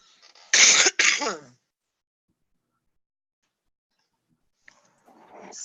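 A person sneezes once, a sharp loud burst followed by a second quick expulsion, close and alone, then near silence before faint movement noise.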